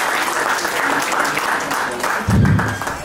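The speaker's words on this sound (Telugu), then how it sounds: "ఒకసారి మీ దగ్గర నుంచి చప్పట్లు రావాలని కోరుకుంటున్నాను." Audience applause at a school alumni get-together, a steady dense patter of many hands clapping throughout, with a louder surge near the end.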